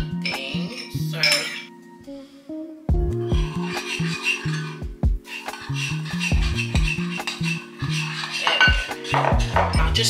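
A spoon stirs a hoisin, garlic and honey sauce mixture for chicken wings in a pan, giving repeated scraping clinks and rubbing against the pan over steady background music.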